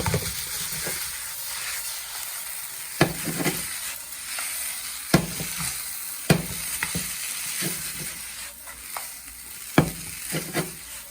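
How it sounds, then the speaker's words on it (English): Chicken chowmein with oyster sauce being stir-fried: a loud, steady sizzle runs throughout, broken by regular sharp scrapes and clacks of the utensil against the pan, with no voices. "Mix together well."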